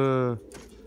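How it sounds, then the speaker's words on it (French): Pigeons cooing at a loft as birds return, a short low harmonic coo sounding close and fairly loud before fading into quiet background rustle. "laisser rentrer les derniers pigeons"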